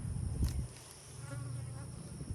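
Honey bees buzz around their hives, a continuous droning hum with individual bees passing near, fairly faint and steady, no talking.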